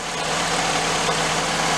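A 2000 Honda Accord engine idles steadily and smoothly with a fresh timing belt, a constant close mechanical hum with no talk.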